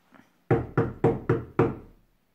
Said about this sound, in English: he knocked on the door of the palace.